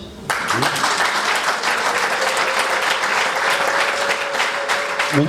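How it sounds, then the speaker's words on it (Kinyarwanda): Applause from an audience at a women's council gathering in Rwanda's Eastern Province, a sudden start into sustained dense clapping that carries on steadily to the end. "reka tubyishimire dukubita amashyi"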